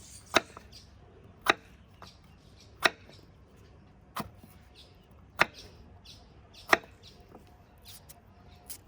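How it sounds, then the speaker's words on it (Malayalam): A knife slicing snake gourd on a cutting board, sharp chops spaced roughly a second apart, close and crisp, about seven strokes against a quiet background. "നമുക്ക് വേണ്ട ഈ പടവലങ്ങ ഒന്ന് അരിഞ്ഞെടുക്കാം"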